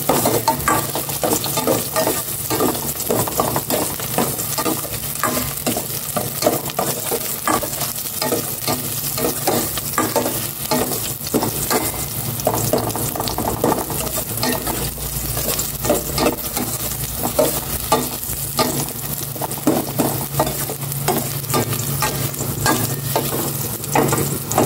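Garlic frying and being stirred in a pan, a continuous loud crackling sizzle with frequent scraping and stirring clatter throughout, close up and without talk.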